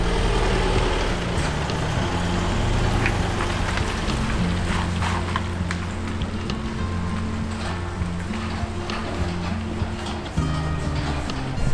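A car towing a caravan rolls through an unsealed, rocky tunnel on New Zealand's State Highway 43, a steady low engine and tyre drone with crunching gravel and scattered knocks echoing close around it.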